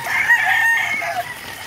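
A rooster crows loudly and close in a Filipino backyard flock of chickens being fed in the rain, one long drawn-out call with faint clucking and rain hiss beneath.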